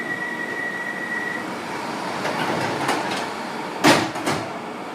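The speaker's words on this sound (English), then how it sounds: "so here we are on a Bakerloo Line train" A London Underground Bakerloo Line 1972 stock train rumbles steadily from inside the carriage, with a brief tone early on and clanking wheel and rail knocks near the end.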